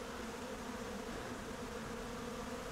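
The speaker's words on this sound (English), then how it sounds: "like all these bees flying right here, like the majority are drones" Honeybees and drones flying around an open hive at close range, a dense, steady buzzing drone that holds evenly throughout, with no voices.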